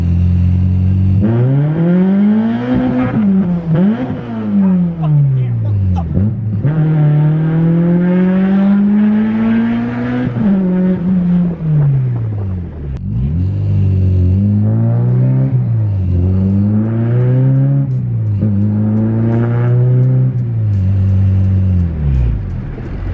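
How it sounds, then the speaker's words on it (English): A car with an LS V8 engine drives and revs repeatedly, its rising and falling pitch sweeps marking gear changes and double clutching, loud and close throughout with no talking. "we're going to drive it around a little bit"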